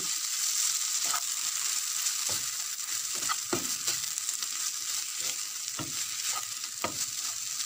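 Borscht vegetables with tomato paste fry in a pan under a continuous hissing sizzle, broken by scattered scrapes and taps of a spoon stirring them, close up and with no voices.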